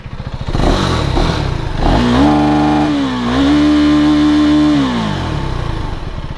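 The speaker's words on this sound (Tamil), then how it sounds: "நம்ம வழக்கம் போல் எக்ஸாஸ் நோட் கேட்டு போகலாம்" A 2024 KTM Duke 390 motorcycle revs loud and close, its exhaust note rising in pitch, holding steady, then falling again as the engine settles back toward idle.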